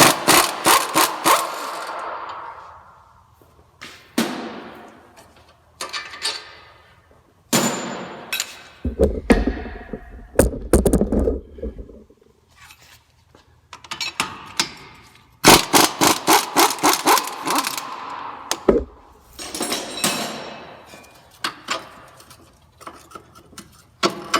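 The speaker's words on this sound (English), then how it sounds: "Now I'm going to remove the two lower strut mounts. It's just I'm using a 7/8 socket and wrench." A 7/8 socket and wrench loosen the lower strut mount bolts on a Honda Pilot, sounding as bursts of rapid ratchet clicking with metallic clanks and pauses, close and loud.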